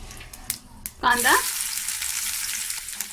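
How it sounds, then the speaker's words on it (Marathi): Mustard seeds hitting hot oil in a kadhai for a prawn pickle, a sudden loud burst of sizzle that settles into steady close crackling and spattering, after a few quiet clinks, with a brief vocal sound as it starts. "तेल तापलंय, राई घालूया।"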